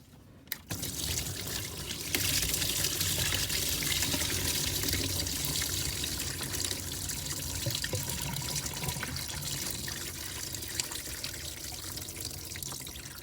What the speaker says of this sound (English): You just let that drain into your pan that you had sitting there.